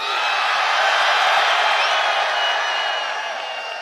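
A large crowd roars and cheers at a Bernie Sanders campaign rally in Brooklyn, a loud, dense wall of whoops and shouts that swells and then eases slightly, heard from within the audience.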